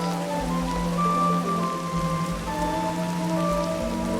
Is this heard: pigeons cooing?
no